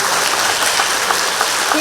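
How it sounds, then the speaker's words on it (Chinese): An audience at a concert applauding the staff, with dense, steady clapping from a large crowd filling the hall at loud volume. "也请观众朋友给我们这些默默服务的工作人员给掌声"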